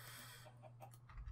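A few short chicken clucks in quick succession over a steady low electronic hum, with the soft, synthetic character of a game.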